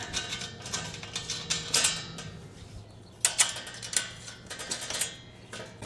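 Ratcheting clicks from a deep socket wrench tightening a nut over a lock washer during a tow flap install on a Ford F350, a quiet series of short ticking bursts with brief pauses between them.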